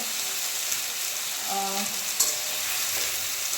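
Spices and vegetables frying in a pan, a steady close sizzle with faint stirring, alone without talk.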